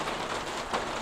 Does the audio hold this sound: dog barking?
no